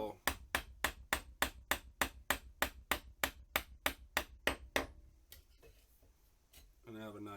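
A mallet striking a chisel while cutting wood joinery for a desk cabinet: about fifteen crisp, evenly spaced knocks, then a few softer taps as a voice begins speaking.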